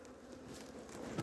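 Honeybees buzzing around a hive that has gone queenless-laying after a colony merge, though a queen is present; a steady, close, dense hum continues without a break for the whole moment, with no voices.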